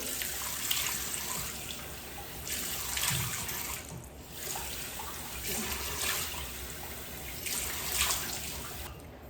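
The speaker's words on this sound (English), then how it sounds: "I'm just gonna rinse my face with lukewarm water." Lukewarm tap water runs into a bathroom sink with a steady hiss, broken by rhythmic splashing surges as a face is rinsed repeatedly by hand, close by.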